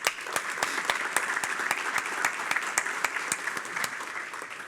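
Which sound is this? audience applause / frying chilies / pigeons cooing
audience applause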